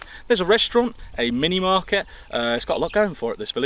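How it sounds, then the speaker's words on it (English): Frogs at a farm pond in rural central Portugal keep up a steady high chirping in the background, with a continuous thin trill running under a man's close, clear talk. "all the frogs chirping in the background"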